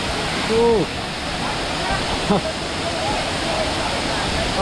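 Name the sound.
waterfall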